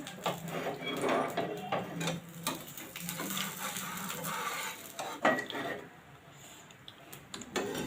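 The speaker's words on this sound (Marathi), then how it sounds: "आता आपण झाकण काढूया आता आपण ह्या चिल्याला पलटी मारूया" A moong dal chilla is flipped in a pan over low gas: close spatula scrapes and metallic clatter against the pan over a faint sizzle, with a brief louder knock partway through.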